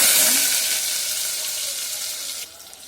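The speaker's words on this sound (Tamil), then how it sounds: "நல்லா வெங்காயம் வதங்கட்டும்." Onions and green chillies sauté in a pan for crab curry with a bright, hissing sizzle that starts strong, slowly eases off and drops sharply near the end.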